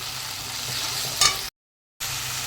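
Spice paste for a Bengali magur fish rosa curry frying and being stirred in a pan, a steady close sizzle with a brief stirring scrape, cut by a short stretch of silence before the sizzle resumes.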